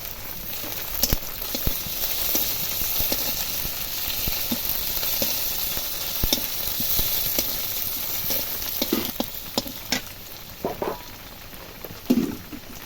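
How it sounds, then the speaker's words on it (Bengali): Reddened onion and crushed garlic fry in a pan, giving a soft, steady sizzle, with scattered clinks and scrapes of stirring that grow busier toward the end. "পেঁয়াজটা একটু লাল লাল করে নিয়েছি এবার দেবো থেঁতো করে রাখা রসুন"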